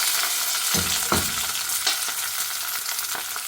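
Cumin, sliced onion and green chilli frying in hot oil give a steady loud sizzle, broken by a few sharp bursts as the ingredients hit the pan and get stirred.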